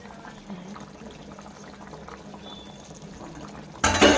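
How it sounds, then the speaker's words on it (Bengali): Rohu fish pieces drop into water in a curry pot with cauliflower, a sudden loud splash and slosh at the very end after a quiet stretch of low kitchen murmur. "এবার আমরা মাছগুলো অ্যাড করে দিচ্ছি।"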